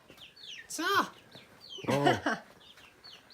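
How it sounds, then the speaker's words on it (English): Chickens and chicks in a village in China give two drawn-out clucking calls about a second apart, close by over a quiet background, with a brief spoken exclamation. "There's little chickens and chicks."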